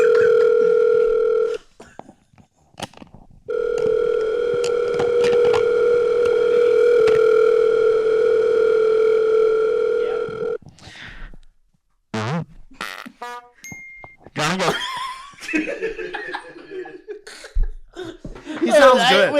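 Telephone dial tone during a call, a loud steady tone broken by a short gap, then coughing, chuckling and people talking.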